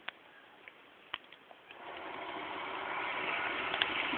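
A Newman motor powered by four 9-volt batteries gives a few sharp clicks, then a whirring hum that builds and holds at a steady, fairly soft level.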